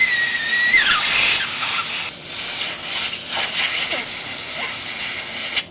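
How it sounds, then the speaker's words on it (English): Compressed air blasts loudly and continuously through the holes of a part being prepared for Cerakote spraying, a close, harsh hiss that shifts slightly in pitch as the nozzle moves and cuts off at the end. "Any holes you see, go ahead and run some air through it."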